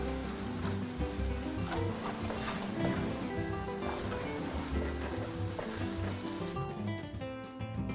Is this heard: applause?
no